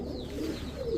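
Female American Saint pigeon giving a soft, low coo, close and brief, with faint background noise.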